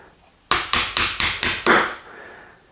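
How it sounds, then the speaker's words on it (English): Six sharp, evenly spaced hammer blows on a punch drive out the trigger pack pins of a Ruger 10/22 takedown rifle, loud and close, each strike ringing briefly before the next. "You might need a punch and a hammer."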